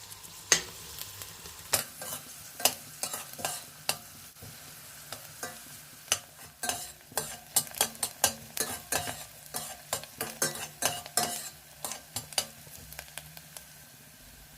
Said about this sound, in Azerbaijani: Qazana kərə yağ əlavə etdikdən sonra soğanları da bura əlavə edib 2-3 dəqiqə qovururam.